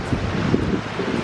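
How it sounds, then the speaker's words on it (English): Wind gusting across the microphone on a tropical island in Rarotonga, a steady loud low buffeting roar with no other sounds coming through. "if you can even hear me over this wind"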